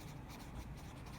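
Pen writing on paper while working through partnership account figures, a steady soft scratching that runs continuously and close by for the whole moment, with no voice over it.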